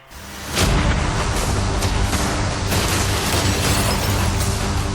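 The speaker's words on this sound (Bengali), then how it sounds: "দেখা যাক তুমি আগের ফেজ থেকে শিক্ষা নিয়েছো নাকি ক্যানন বলগুলো তোমার ইয়টকে হিট করবে।" Cannon firing cannonballs at a yacht: after a brief quiet start, a heavy boom gives way to a dense, rumbling barrage of blasts and crackling impacts that sustains loudly to the end, with no voices.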